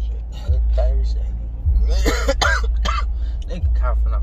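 A man coughs and clears his throat several times in rough bursts, close and loud, over a steady low background hum, with some voiced sounds mixed in between the coughs.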